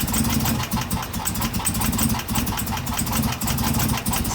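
A 2016 Chevrolet Camaro engine idling roughly with several cylinders misfiring from a cracked valve spring, a loud, close, uneven pulsing rumble that holds steady throughout.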